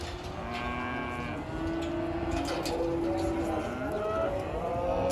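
Cattle moo at a sale barn, several long low calls overlapping in a noisy, busy space with a steady hum beneath.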